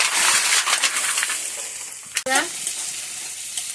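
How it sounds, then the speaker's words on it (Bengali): Malabar spinach seeds fry and get stirred in a pan, a bright hissing sizzle with a sharp metallic clink partway through, close and steady. "এই দেখো পুঁই বিচি ভাজি করছি"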